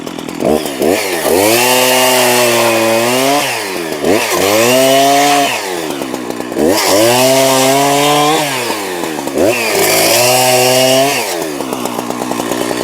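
A chainsaw engine (STIHL or Husqvarna) revs up and bogs down repeatedly as it cuts firewood, loud and close, in three long surging passes.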